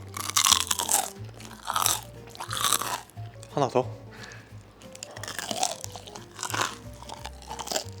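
Crisp crunching bites into crispy chicken karaage brined with Weipa seasoning, several loud close crackles spread across the clip, interleaved with chewing and a speaking voice.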